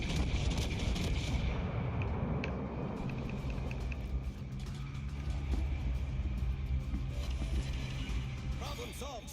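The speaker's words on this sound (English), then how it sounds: "Iron Duke, firing." Iron Duke battleship guns firing in World of Warships Legends, a heavy booming rumble under a continuous roar of battle noise, with radio-style voices talking over it.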